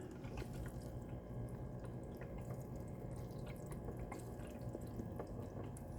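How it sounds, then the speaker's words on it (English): Water running and dripping out over a plant pod in an AeroGarden tabletop hydroponic system, a faint, steady trickle with scattered drips throughout. "See how the water runs out"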